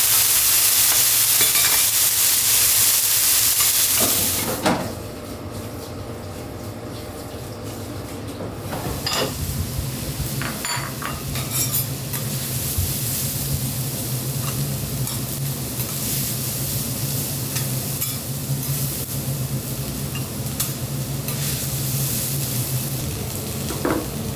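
Yakisoba noodles fry and sizzle on the hot griddle of a Hiroshima okonomiyaki restaurant. A bright hiss settles into a continuous crackle, with clinking spatula strokes as they are stirred.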